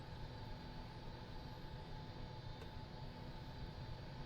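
Helicopter turbine whining and droning steadily in a flight simulator, a continuous even engine hum with no talk over it.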